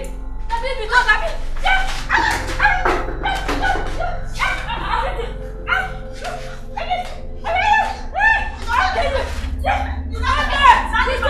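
A man imitates a barking dog with his voice, giving a run of short, punchy bark-like yelps in a steady rhythm, close and loud, with a chuckle mixed in and a low hum underneath.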